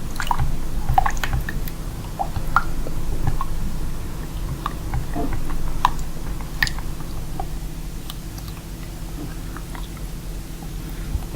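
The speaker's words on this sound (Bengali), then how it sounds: "আমি এটা দিয়ে মিক্স করে নেব ভালো করে ভালো করে মিক্স করে নিতে হবে" Glycerin mixture stirred with a spatula in a container, a steady wet squishing and dripping churn with scattered small sticky clicks, close and continuous throughout.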